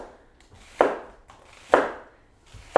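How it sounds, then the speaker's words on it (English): Knife cutting a red onion along its ridges into fajita strips: three crisp, close chops spaced evenly about a second apart, each with a short scraping tail, no talk. "kind of cutting along the ridges of this red onion"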